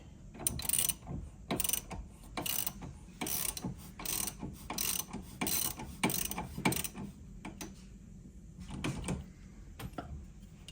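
Allen wrench loosening a ball joint bolt on a C5-C6 Corvette during a front brake kit install, a quick series of close, sharp ratcheting clicks in bursts with short pauses between.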